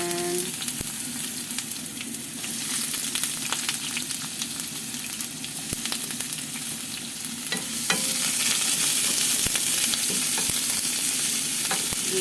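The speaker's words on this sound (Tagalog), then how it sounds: "Gigisa muna tayo ng bawang at sibuyas." Garlic and onion sautéing in a pan for ground-meat ginisa: a steady, loud sizzle with scattered spatula stirs and scrapes, swelling louder near the end.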